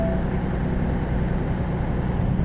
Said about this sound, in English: Okay, now my Jake brake is still on.